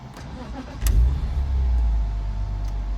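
BMW M3 E46 engine starting: a brief starter crank, then the engine catches into a loud, deep idle that settles steadily, heard up close with no talking.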